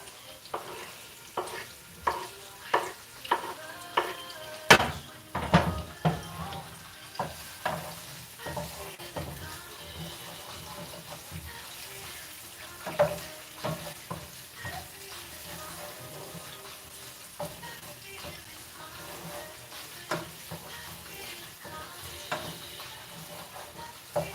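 Garlic fries in a pan with a soft continuous sizzle, broken by repeated clinks and scrapes of a utensil stirring, fairly close and moderately quiet.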